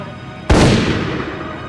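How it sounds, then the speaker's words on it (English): A single sharp gunshot cracks out loud and close, then a long reverberant boom rolls on and slowly decays, with no speech over it. "God, that was a gunshot."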